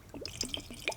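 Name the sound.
pouring rum into a glass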